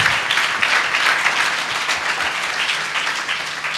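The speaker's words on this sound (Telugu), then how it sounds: "Let's give God a mighty clap." A church gospel meeting audience claps together in praise of God, a dense, steady burst of applause filling the hall for a few seconds.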